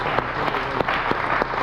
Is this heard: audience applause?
yes